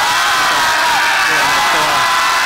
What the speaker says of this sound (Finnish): Ääkirjaimen huutaminen tarkoittaa,